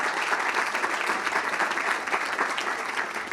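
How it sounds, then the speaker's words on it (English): An audience at a gala applauds steadily to welcome a delegation from Senegal, a dense, even wash of clapping from a full room with no voices over it. "give them a round of applause and a warm welcome"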